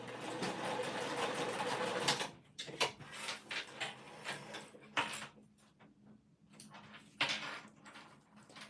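A sewing machine makes a short burst of tacking stitches on a winter crescent bag, followed by quiet handling clicks and fabric rustles; no voices.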